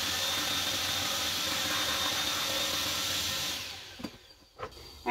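A vacuum cleaner roars steadily at close range with a high whine while removing debris from wool, then shuts off and winds down, leaving a few faint knocks.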